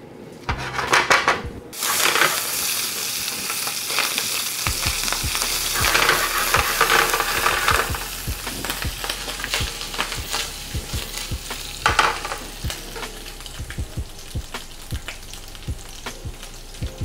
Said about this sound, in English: We're just gonna let the heat do its thing, render the fat from the andouille sausage and crisp it up